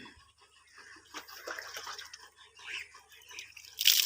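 Water from a new service pump for washing motorcycles splashes and drips in uneven bursts, moderately loud and close, with a sharper gush at the end.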